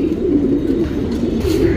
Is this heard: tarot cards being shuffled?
no